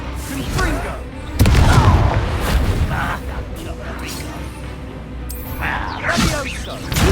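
A Confringo exploding curse blasting in the Hogwarts Legacy video game: a heavy boom bursts in suddenly and trails off into rumbling combat noise with whooshes, while voices speak over the fight.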